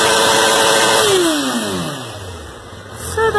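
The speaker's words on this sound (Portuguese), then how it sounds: "Dá um giro de moto." A motorcycle engine, loud and close, revs high and then winds down, its pitch sliding lower before picking up again briefly.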